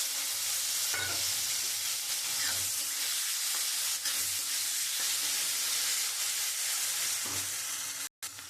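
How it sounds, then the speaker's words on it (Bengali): Sliced onion fries with nigella seeds in oil left from frying fish, giving a steady close sizzle and hiss with occasional stirring scrapes and a brief dropout near the end. "আমি পেঁয়াজটা দিয়ে দেবো।"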